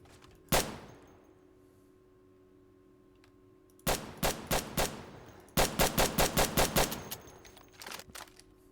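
Rifle fire in the video game Insurgency: one sharp shot, a pause, a quick string of four rounds, then a rapid burst of about eight that empties the magazine, loud and close.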